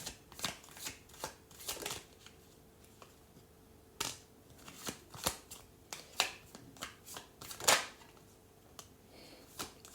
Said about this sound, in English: For some reasons, I shuffled 6 cards.